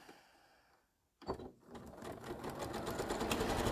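Sewing machine chain piecing quilt triangles: a brief quiet handling sound, then the machine starts and runs in a steady rapid stitching rhythm, close and clear.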